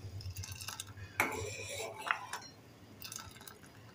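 A ladle stirring boiling sabudana kheer in a pot, with close scraping and clinking against the metal, a bubbling liquid underneath, and a few louder knocks.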